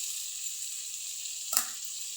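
A spice masala of salt, turmeric, chili powder, tomato and coriander leaves fries in a pan as it is stirred for a Bengali egg curry. A faint, steady hiss runs throughout, broken once by a brief utensil clink, with no voices.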